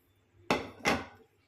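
Raw chicken pieces for butter garlic chicken drop into a pan in two quick, fairly loud clattering thumps about a third of a second apart, with quiet background before and after.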